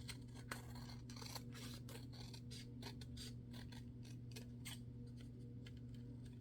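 Scissors trimming paper for a mini journal, a series of close, crisp snips and rustling cuts repeating irregularly over a low steady hum, with no talking.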